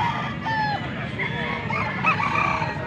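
A young gamecock (stag) crows repeatedly at a busy weekend market in Angeles City, Pampanga, its calls loud and near over steady crowd chatter and background voices.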